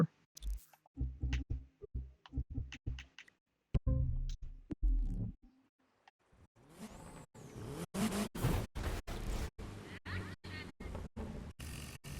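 A touring car engine in the video game The Crew 2 revs, pausing in the middle and then returning with a run of sharp, rapid bursts as it accelerates and shifts, with faint tire noise.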